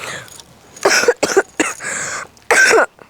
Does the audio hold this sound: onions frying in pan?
no